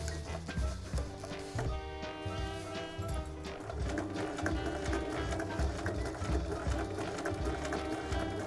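A sewing machine stitches a rain cape with the needle set to stop in the down position, running in a steady close whir of rapid needle strokes throughout.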